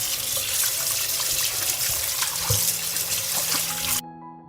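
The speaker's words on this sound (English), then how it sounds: "First, I'll wash the tomatoes." Tomatoes washed under a running kitchen tap, steady splashing water with small knocks and rubbing as the fruit is handled, stopping abruptly near the end.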